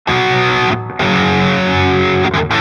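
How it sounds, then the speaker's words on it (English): Electric guitar with high gain overdrive, delay, chorus and compressor, a loud, dense, swirly doubled mono tone that sustains, breaks off briefly, then rings on with echo tails, played alone. "If you bring a little bit of delay in there with the chorus on and the overdrive on, I'll leave the compressor on too"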